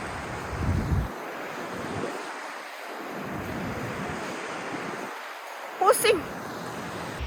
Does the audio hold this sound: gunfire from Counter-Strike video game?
no